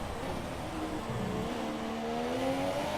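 A Formula 1 car engine screams at high revs on a lap of Monaco in the F1 2017 video game, a steady, loud whine with pitch slowly rising as it accelerates, continuous and without talk.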